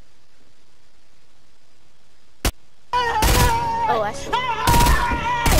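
Loud bursts of gunfire from a Fortnite match, a short sharp shot followed by sustained rapid shooting and heavy volleys that fill the clip, with a brief voice speaking over the game.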